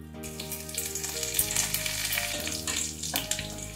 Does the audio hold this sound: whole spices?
yes